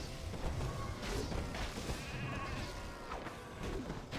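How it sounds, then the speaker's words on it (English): Sheep bleats from the polymorph spell in Warcraft III ring out over busy battle effects, with several short baa calls and impacts layered in a dense, continuous mix. "Flying sheep."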